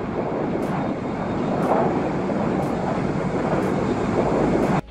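An airplane passes overhead as a continuous broad roar that holds steady at moderate loudness for several seconds, with some wind-like rushing and no voices.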